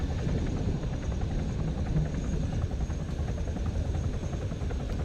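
A helicopter landing in the video game Arma 3, its rotor droning steadily and loudly, a constant thrumming whir with no pauses or voices.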